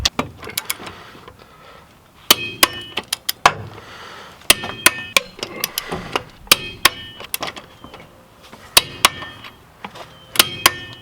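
Metallic clanks and ratcheting clicks from a torque wrench tightening car lug nuts in a star pattern while a spare tire goes on, sharp close hits in irregular bursts with short pauses between.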